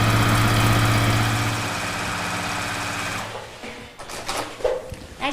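A domestic sewing machine stitching quilt layers on a quilting frame, driven by a foot pedal, hums steadily and loudly for about three seconds before it stops, leaving a few light clicks and handling noises.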